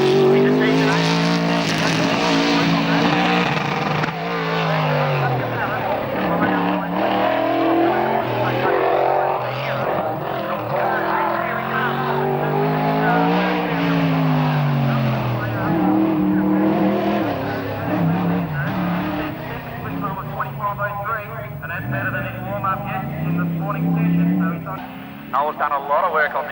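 Car 114, a Big 8 hillclimb race car, roars up the course at the 1994 Australian Hillclimb Championships at Collingrove, its engine rising and falling through the gears, loud and close, with a commentator talking over it throughout.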